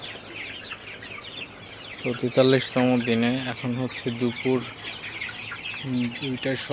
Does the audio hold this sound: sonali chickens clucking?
yes